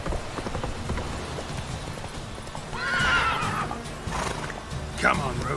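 Roach the horse in The Witcher 3 gallops through rain with steady clip-clopping hooves and lets out a clear whinny midway, with another short neigh near the end, while a person talks over it.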